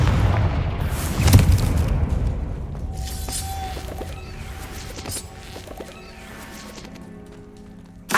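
A Confringo explosive spell blast from the video game Hogwarts Legacy hits loudly near the start, followed by crashing, shattering debris and ringing, fading effects, with another sharp burst right at the end.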